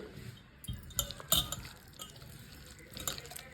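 Curry leaves stirred into a raw eggplant tamarind broth, with light clinks of a spoon against a steel or glass bowl and soft wet swishing, irregular and close.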